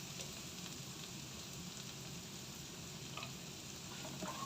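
Shredded cabbage and carrot for a thoran cook in a pan with a soft, steady sizzle and faint scraping of stirring, quiet and continuous, with no talk.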